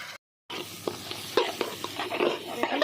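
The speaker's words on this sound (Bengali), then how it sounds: "এখন চালগুলো দিয়ে আমি 5 থেকে 6 মিনিট ভালো করে ভেজে নিয়েছি" Rice and lentils fry in a pan with capsicum, potato and spices for khichuri, under a steady crackling sizzle punctuated by repeated close scraping stirs, after a brief silent gap at the start.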